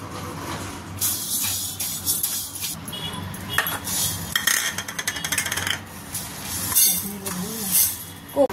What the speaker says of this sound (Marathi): प्रथम आपण हे हुलगे भाजून घ्यायचे.